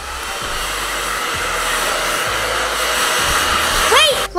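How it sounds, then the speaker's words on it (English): A handheld blow dryer runs steadily on hair in a kids' play beauty salon, a loud continuous whir that holds for several seconds before briefly cutting off near the end. "Where's the blow dryer? Blow dryer? Here we go."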